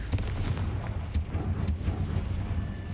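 A Confringo fire spell blast in the Hogwarts Legacy video game, played on hard mode, lands as a few muffled booms and cracks over a steady low rumble of game ambience.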